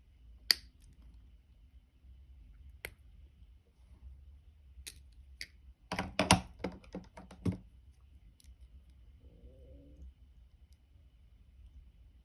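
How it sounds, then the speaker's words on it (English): Wire cutters snipping the ends off a wire-wrapped rose link, a few sharp, quiet clicks spread apart, then a quick cluster of snips near the middle, with a soft rustle afterwards against a near-silent background. "We're just going to cut these off."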